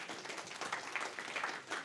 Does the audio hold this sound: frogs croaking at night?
no